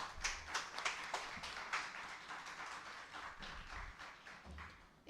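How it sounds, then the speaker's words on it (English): Scattered applause from the audience at a live conference session, a steady patter of hand claps throughout, faint and somewhat distant, with no talking over it. "A huge round of applause, everybody."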